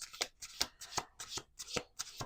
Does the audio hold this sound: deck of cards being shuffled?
yes